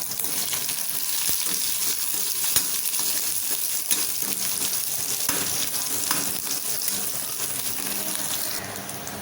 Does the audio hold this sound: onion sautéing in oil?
yes